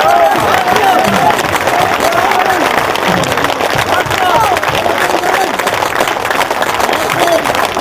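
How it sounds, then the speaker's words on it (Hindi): Dense audience applause with cheering at an Urdu poetry mushaira, steady and loud throughout, a broad roar of many hands filling the hall. "तालियां थमनी नहीं चाहिए थी।"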